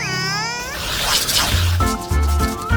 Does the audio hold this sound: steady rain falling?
no